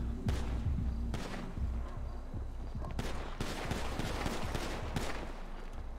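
Gunfire in a French neighbourhood, loud cracking bursts and sharp shots in rapid irregular volleys over a constant noisy background, with a few voices faintly audible in between.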